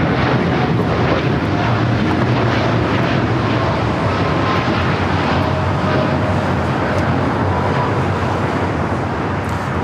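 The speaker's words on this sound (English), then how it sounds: "American Airlines Flight 27 taking off to Tokyo Haneda on the 787-8 Dreamliner" An American Airlines Boeing 787-8 Dreamliner on Flight 27 to Tokyo Haneda rolls for takeoff at LAX, a loud, steady, broadband jet roar that holds unbroken throughout with no voices.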